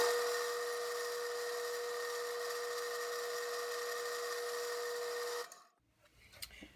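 A drill bores through soft material with a steady, high-pitched mechanical whine at a constant tone, grinding evenly for several seconds before cutting off, followed by faint clatter.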